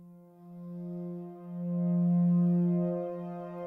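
Ambient synth pad in an ambient track, run through a Valhalla dotted delay and room reverb, holding a steady harmonic drone that swells in the middle and lingers, alone with no voices.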